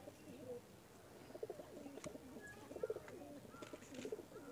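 Soft, low pigeon coos repeat in short phrases against a quiet background hiss, with a few faint chirps.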